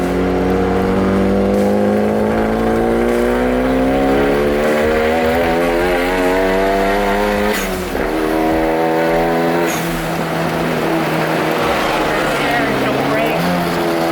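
A Genesis Coupe running an AlphaX ECU accelerates hard on a race track, its loud engine climbing in pitch through the revs with a brief dip at a gear change, while a voice talks over it.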